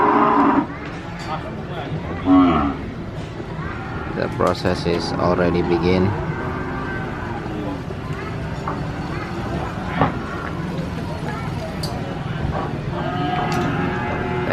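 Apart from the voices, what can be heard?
cows mooing while being unloaded from a truck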